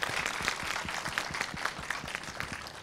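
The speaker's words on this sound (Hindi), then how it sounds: "सबसे पहले गार्गी कॉलेज, उनके बच्चों के लिए, सारे एडमिनिस्ट्रेशन के लिए एक बार जोरदार तालियां" A college audience at Gargi College in Delhi gives a short burst of steady applause for its students and administration, with many hands clapping evenly at moderate volume and no voices over it.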